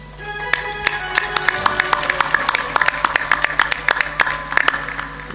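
Audience applauding at a satsang, a sustained burst of many hands clapping in an uneven, lively patter that builds toward the end.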